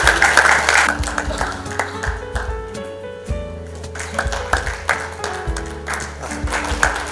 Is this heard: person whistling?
no